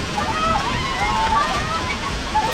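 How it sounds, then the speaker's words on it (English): Storm floodwater surges and sloshes through flooded city streets, a loud, continuous churning wash with no break. "A huge amount of water flooded into the city."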